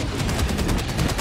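Barrage explosions in Helldivers 2 pound in a rapid, dense burst of repeated booms, thick and rumbling, loud and sustained throughout without any talk.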